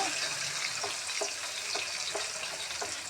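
Tamarind pulp frying in oil in a pan for an amla pickle, a steady crackling sizzle with faint scraping strokes at a regular pace, no talking.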